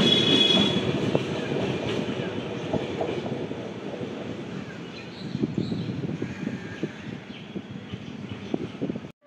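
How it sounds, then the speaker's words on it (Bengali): A 12-coach Sealdah–Ranaghat–Gede local train rumbles past close by with steady wheel clatter and rail noise, occasional sharp clicks and faint squeals over a continuous roar that holds for the whole stretch. "এটা শিয়ালদা রানাঘাট গেদে লোকাল"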